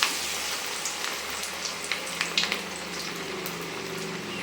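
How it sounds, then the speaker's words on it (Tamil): Spinach vadai deep-fry in hot oil, giving a soft, continuous bubbling sizzle with scattered small crackles and pops, fairly quiet and close, with no voices. "இந்த எண்ணெயிலே பார்த்திங்கன்னா கீரை நல்லா வெந்துடும்."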